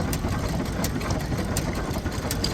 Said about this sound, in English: Here we've got a couple beautiful international harvester engines.